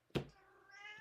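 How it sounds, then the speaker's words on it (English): A house cat lets out a single short, close meow that trails off into quiet room tone. "That's my cat."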